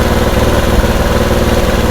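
A motorcycle engine idles loud and close after a carburetor mileage adjustment, a steady rapid low putter with even vibration and no talk over it.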